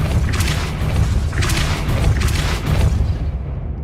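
Repeated Depulso spell impacts in Hogwarts Legacy, deep booming thuds that land in three or four heavy bursts with rumbling low-end tails, loud and close, no talk over them.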